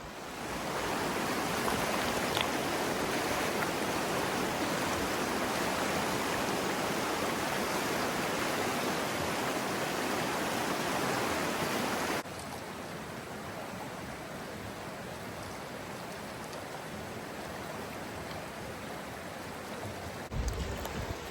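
A river swollen by spring snowmelt flows loudly in a dense, continuous rush, then drops to a softer steady flow partway through.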